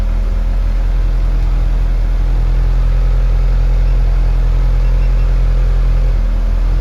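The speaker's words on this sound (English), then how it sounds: "And you see it raise the idle of the car." A car engine idling steadily at a raised idle speed of about 1300 rpm during tuning, a loud, constant low hum with no breaks.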